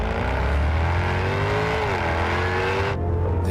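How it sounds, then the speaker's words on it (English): A car engine revs loudly and steadily up close, its pitch sweeping up and down before cutting off sharply near the end, with no voices. "This car sounds good."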